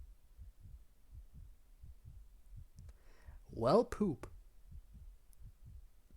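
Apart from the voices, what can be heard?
heartbeat sound effect in Doki Doki Literature Club video game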